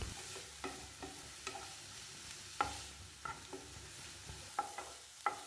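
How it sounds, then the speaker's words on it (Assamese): Grated beetroot stirred in a pan over a medium flame, with intermittent scraping strokes of the spoon over a faint, low frying sizzle; close and quiet, no voices. "তাৰপিছত এইখিনি মই মিডিয়াম ফ্লেমতে লৰাই লৰাই ভাজি থাকিলোঁ।"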